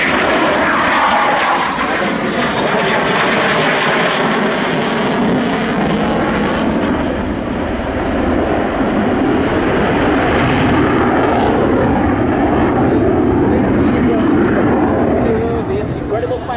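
Spanish Air Force Eurofighter Typhoon making a low pass with its gear down at an air display, jet engines roaring loud and close throughout with a sweeping rise and fall, while an announcer speaks over it.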